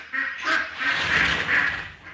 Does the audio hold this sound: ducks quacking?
yes